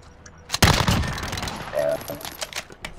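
Rapid Uzi fire in a video game, a loud close burst of automatic shots that erupts sharply and rattles on in quick bursts, tapering off with scattered pops.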